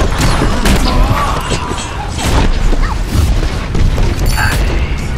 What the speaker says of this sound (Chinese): 火箭炮，炸弹！